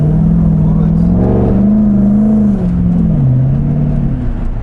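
Loud, close exhaust of a Corvette C6 Grand Sport droning as the car accelerates, its engine pitch rising, holding, then dipping and climbing again, with a voice speaking over it.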